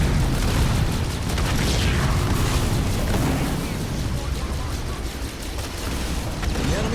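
A building blown up during a base attack in the strategy game Halo Wars, rumbling booms and bursts filling a loud, continuous wall of battle noise.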